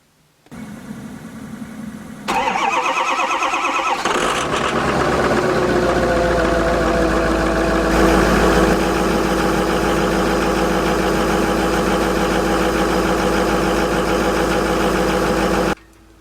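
A truck engine cranks and catches in snowy weather, then settles into a steady, loud, rumbling idle that runs for over ten seconds before cutting off abruptly.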